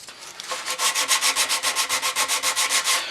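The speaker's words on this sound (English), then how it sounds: "you can always touch it up with a little bit of that 60 grit sandpaper" A wooden chair is hand-sanded with 60 grit sandpaper, a steady scratchy rasp of quick back-and-forth strokes in an even rhythm, close and fairly loud with no talking.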